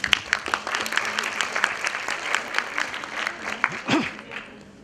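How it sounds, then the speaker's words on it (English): Audience at a youth summit panel in Istanbul breaking into applause, a dense run of claps from a crowd, fairly close, with a voice speaking over it near the end. "I want all of us to give applause for ourselves right now"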